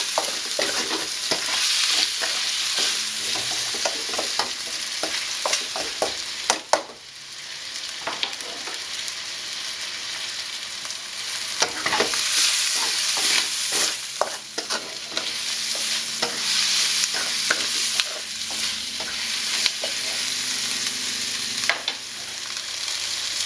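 Meat and onions fry in a pan for a Thai green curry, giving a steady close sizzle broken by repeated scraping stirs, with no talking.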